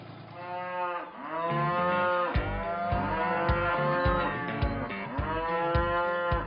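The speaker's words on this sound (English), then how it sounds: "OK, Gus, we've got the cattle in" Cattle held in a yard moo loudly and close by, several overlapping drawn-out calls following one another, with a few quieter lows between them and no talk.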